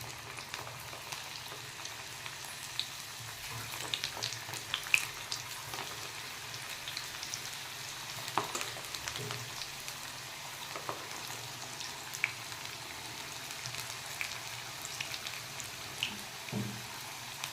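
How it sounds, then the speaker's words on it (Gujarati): Shakkarpara snack pieces made with fenugreek leaves, frying in hot oil over a medium flame: a steady, soft sizzling crackle with small irregular pops, continuing evenly throughout at a low volume. "તેલ થઈ ગયું છે હવે અંદર બધા શક્કરપારા આપણે એડ કરી દેવાના"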